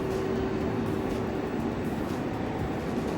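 An overnight train to Berlin running along the tracks, a steady broadband rumble with a faint tonal hum, loud and unbroken, no voices.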